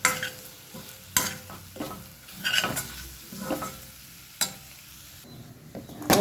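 Masala with coriander and cumin powder frying in a pan for mushroom sukka while a spoon stirs it, giving a soft steady sizzle broken by sharp scraping knocks of the utensil against the pan, close and alone with no voices.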